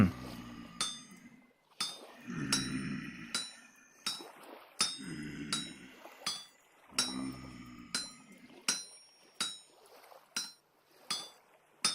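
An iron hammer strikes metal in the video game Vintage Story, sharp ringing clinks repeating in an uneven rhythm, each hit decaying quickly, with lower thuds between some strikes.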